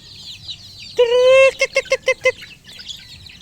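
Two-month-old incubator-hatched chickens call nearby, one drawn-out cry followed by a rhythmic series of five short clucks over quieter background chirping.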